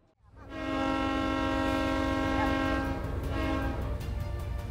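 A China-Europe Railway Express freight train pulls out of Tuanjie Village railway station at a departure ceremony. A loud, sustained horn tone swells in and holds steady over the low rumble of the train.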